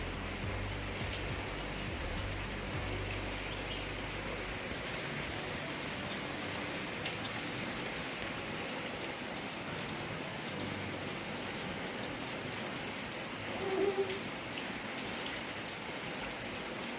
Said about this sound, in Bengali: যদি সারাদিনভর বৃষ্টি না কমে